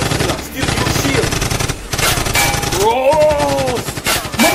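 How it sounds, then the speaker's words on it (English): Loud gunfire sound effects crack out in a dense burst, heavily layered with music and other effects, close and punchy throughout. "Black Cartel, use double gunshot!"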